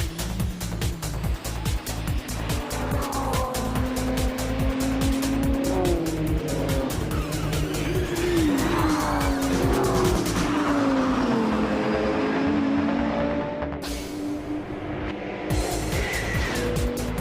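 Race car engines scream past at high revs during an endurance race at the Nürburgring, pitch sweeping up and down as cars pass one after another, with brief tire squeal.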